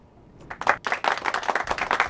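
A small group claps for a guest gospel singer in an interview setting: after a brief quiet moment the clapping starts and builds into a close, steady run of distinct claps.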